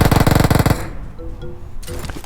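Rapid automatic gunfire from a SCAR rifle in the PUBG Mobile battle royale game, a loud fast burst of shots lasting under a second, followed by quieter in-game ambience and faint distant sounds.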